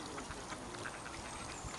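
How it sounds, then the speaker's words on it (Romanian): Ducks quack repeatedly in a dense, noisy outdoor scene near water with swans, calls overlapping at a steady moderate loudness with broad background wash. "Niște rațe care vor să bată."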